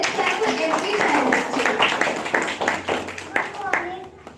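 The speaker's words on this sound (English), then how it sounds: "Let's clap for him. Let's clap for every child." Audience clapping for a kindergarten child at a school expressions event, scattered claps mixed with ongoing speech from a host.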